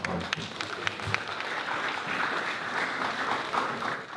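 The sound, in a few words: audience applause at safety campaign event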